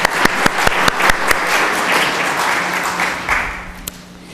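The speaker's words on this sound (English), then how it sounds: "So if we could give them a round of applause as well." Audience applause at a public forum on the Kinder Morgan pipeline in Pelham, New Hampshire: a room full of steady clapping with sharp individual claps standing out, fading slightly toward the end.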